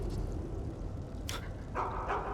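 A dog in the Skyrim video game giving a few short barks and yips over a constant low background hum, fairly faint.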